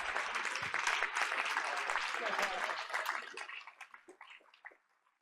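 An audience at a board of education meeting applauds four school principals, with dense clapping that thins into scattered claps and dies away.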